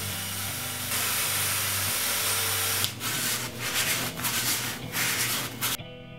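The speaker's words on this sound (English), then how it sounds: "Using that little spindle sander, I cleaned up not only the pickup hole," Small spindle sander cleaning up the pickup hole and sound hole of a tele-style acoustic-electric guitar body; a steady close motor hum with sanding friction, then uneven rubbing surges and short breaks as the work is moved against the drum.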